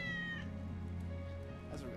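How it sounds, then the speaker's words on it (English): A cat in the video game Final Fantasy VII Remake lets out one drawn-out meow, faint against a steady low hum of game ambience. "That's Wedge's cat."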